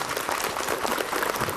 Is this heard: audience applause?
yes